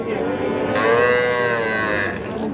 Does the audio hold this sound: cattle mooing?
yes